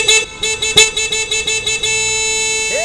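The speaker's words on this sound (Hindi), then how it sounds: "इतनी ट्रैफिक में तुम्हें जोर जोर से हॉर्न बजाने की क्या जरूरत है?" Car horns honk close by in a traffic jam in a string of short, rapid toots, then one long sustained blast holds to the end.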